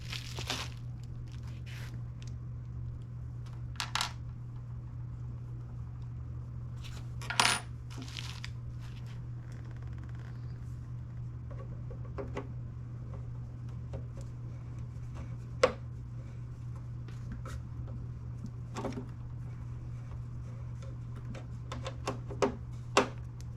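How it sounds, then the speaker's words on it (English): Three screws being driven into the back of a Flashforge AD5X 3D printer enclosure, heard as scattered sharp metallic clicks and ticks over a steady low hum, with no talking. "put the screws on the back now. There are 3 of them."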